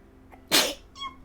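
A single sharp human sneeze, close and loud, preceded by a short intake of breath and followed by a faint trailing sound.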